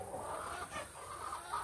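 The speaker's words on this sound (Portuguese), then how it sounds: "Olha aqui as galinhas, onde é que estão?" Chickens softly clucking inside a small shed coop, a few low murmuring calls under a steady background hiss.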